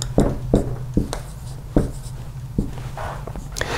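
A marker or chalk scrapes across a board in a lecture room, several short, sharp strokes spaced about half a second apart, close and fairly loud with no voices.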